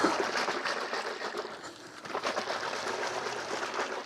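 A bottle of ceramic coating liquid for a Trek Domane 4.5 road bike restoration is shaken hard, giving a continuous close sloshing rattle that fills the moment with no talk.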